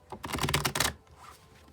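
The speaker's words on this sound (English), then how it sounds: "one more shuffle." A tarot card deck is shuffled by hand in a quick, close burst of dense papery riffling clicks lasting under a second, followed by near silence.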